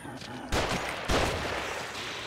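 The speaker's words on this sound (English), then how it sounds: "They're shooting." Two sharp gunshot bursts crack out in a horror video game encounter, loud and close against a steady rumbling background.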